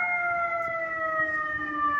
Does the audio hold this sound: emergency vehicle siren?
yes